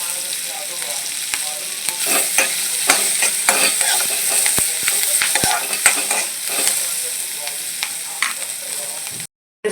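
Onion and green chili fry in a pan while being stirred, giving a loud, continuous sizzle broken by frequent sharp scrapes and taps of the spoon, before sound cuts out abruptly near the end.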